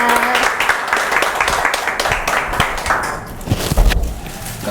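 A classroom of students at a Korean fire-protection engineer exam-prep session applauds steadily, a dense crowd of clapping holding for several seconds before thinning slightly near the end.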